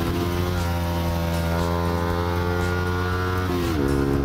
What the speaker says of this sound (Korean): 스로틀 불기가 가능합니다.